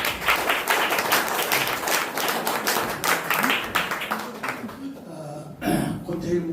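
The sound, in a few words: applause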